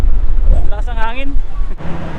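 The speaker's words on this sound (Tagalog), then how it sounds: "Lakas ng hangin." Strong wind buffets the microphone outdoors in a loud, continuous low rumble, with a voice speaking briefly in the middle and gusts continuing after.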